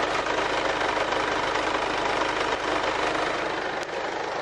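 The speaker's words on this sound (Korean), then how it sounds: "엔진 소음 먼저 들려드리면은" A Mercedes-Benz 200 CDI diesel engine idles steadily, a dense continuous rumble with a faint rapid knock running evenly throughout, close and loud with no talking.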